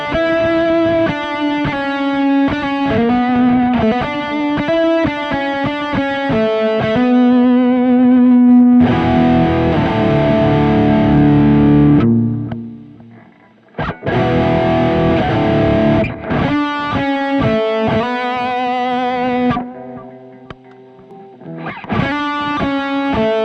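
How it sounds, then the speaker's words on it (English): Distorted electric guitar played through an EHX Nano Lumberjack Log Overdriver pedal with a little delay, loud chords and riffs with sustained ringing sections and brief gaps, no voices. "Turn the noise suppressor off again. And let's turn on a little bit of delay."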